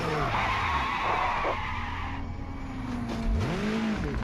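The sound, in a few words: race car being hit and skidding off in Project Motor Racing video game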